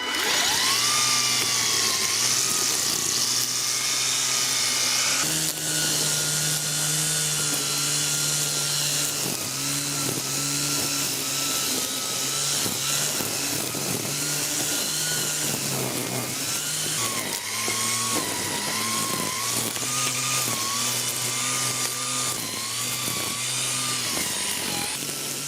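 A Ryobi 40V cordless string trimmer cuts grass, its high whining motor buzzing loud and close throughout, rising and dipping in pitch as the line hits the growth.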